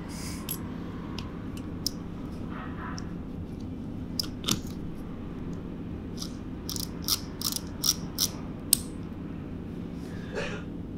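Small plastic and metal parts of a Tokyo Marui NGRS airsoft gearbox, the tappet plate and air nozzle, are handled close up, giving faint scattered clicks and taps over a low steady hum.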